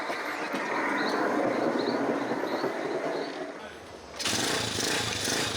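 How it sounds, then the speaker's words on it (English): A motorcycle-powered wooden platform rides railway tracks through dense jungle in Colombia, making a loud, steady rumbling clatter with engine drone that dips briefly before surging back. "The Bruhita is a wooden platform powered by a motorcycle that glides along railway tracks through the dense"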